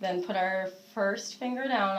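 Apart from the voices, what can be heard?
No distinct noise like a dog, phone or traffic.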